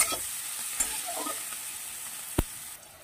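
Beans with turmeric fry in a pan, giving a steady, close sizzle with soft stirring scrapes and a sharp utensil knock near the end.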